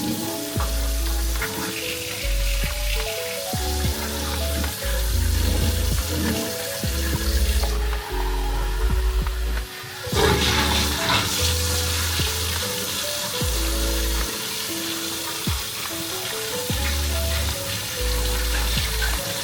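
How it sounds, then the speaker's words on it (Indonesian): Water splashes and sloshes as it is changed while hybrid rice seeds are washed by hand, with continuous swirling, rinsing and pouring sounds close by, interrupted by occasional knocks and rustles. "kita ganti air lagi, kita cuci lagi banyak 3 kali."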